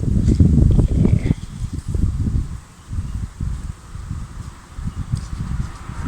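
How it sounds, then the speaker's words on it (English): Outdoor wind gusts in Cape Town, rough low rumbling buffets that rise and fall in uneven waves, loud and close against the microphone, with no talk. "Wonderful Cape Town wind is always just the best. It blows everything away."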